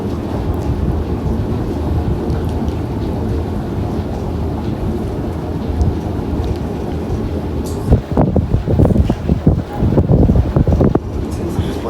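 Strong steady wind buffets the microphone outdoors at a beekeeping and honey harvesting site, with a continuous low roar and heavier gusts near the end.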